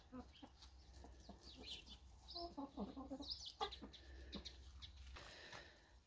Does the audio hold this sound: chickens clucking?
yes